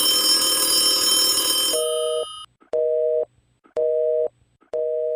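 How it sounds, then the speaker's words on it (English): A telephone line gives a busy signal: steady buzzing tone pulses repeat in an even on-off rhythm, loud and alone, after an earlier burst of ringing. "The line is busy."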